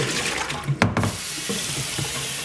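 Tap water runs into a plastic home brew bottle being rinsed out, a steady close splashing stream with a brief gurgling slosh near the start, no voices.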